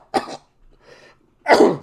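A person coughs hard twice, two sharp bursts with a short, quieter breathy sound between them, the second cough louder and a little longer.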